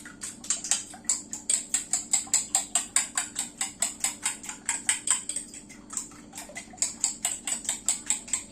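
A fork beating eggs in a dish for cheese custard, a steady run of quick, bright metallic clinks against the bowl, close and rhythmic, pausing briefly before carrying on.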